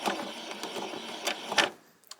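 A sewing machine runs a straight stitch down a seam on a white summer top, a steady close whirring broken by short pauses and a couple of brief bursts before it stops.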